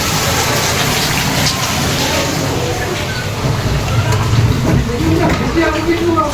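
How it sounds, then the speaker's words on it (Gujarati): Heavy rain pours down in Surat, a dense, steady wash of falling water that stays loud and continuous throughout, with a voice talking faintly beneath it. "સુરતમાં જોરદાર વરસાદ હું ભાઈ."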